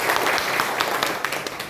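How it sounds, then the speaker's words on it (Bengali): A crowd at a network-marketing programme breaks into brisk applause, many hands clapping in a dense, even burst that tapers off gradually. "ওর জন্য একটা হাততালি দিন"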